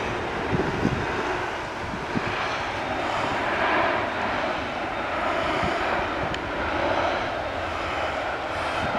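An EasyJet Airbus A319 taking off at Manchester Airport makes a sustained, fairly distant jet engine roar. Wind buffets the microphone throughout.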